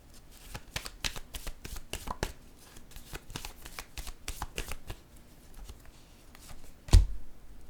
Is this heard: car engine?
no